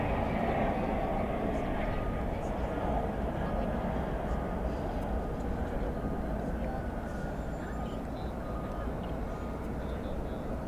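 Aircraft engine roar from an airplane around DFW Airport at sundown, a steady broad rumble holding at one loudness throughout, heard from a distance with faint voices in the background.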